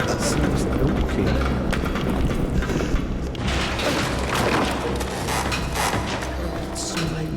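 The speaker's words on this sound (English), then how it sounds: "Enough with the banging and ringing of the bells." Bells banging and ringing in a game, heavy irregular thumps and clangs over a loud, busy bed of sound.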